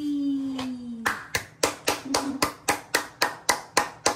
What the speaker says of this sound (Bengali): হাততালি দাও। হাততালি।